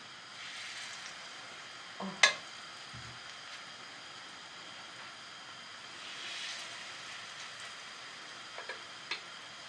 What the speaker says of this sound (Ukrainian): Смажуємо з однієї і з другої сторони на такому середньому вогні